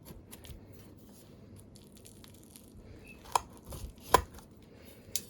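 A knife slices into a berry bake in a quiet kitchen, giving a few soft crunches and a couple of sharper clicks and taps against the dish.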